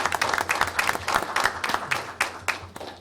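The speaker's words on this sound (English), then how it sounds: "So we'd like to give you all a round of applause." A room of people at a school board of education meeting claps in a round of applause, uneven bursts of hand claps rising and falling, close and fairly loud.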